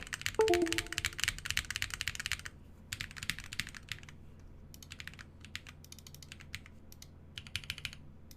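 Bursts of rapid clacking keystrokes come from a custom-built mechanical keyboard with stabilized keys, close and crisp, separated by short pauses, with a soft chime near the start.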